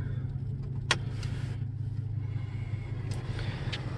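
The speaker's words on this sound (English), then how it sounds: "I'm going to go do a quick test drive with the new throttle body in." A 2017 Chevy Silverado Z71 LTZ with the 6.2 engine and a new throttle body drives along, heard from inside as a steady, low engine and road hum with a few small clicks and no talking.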